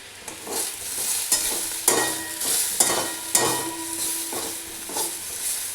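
Cumin, Kashmiri chili and turmeric powder fry in a pan with a steady sizzle, while a utensil stirs and scrapes in regular knocks close by.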